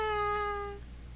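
A single cat meow, clear and tonal, fading out after about a second into quiet background.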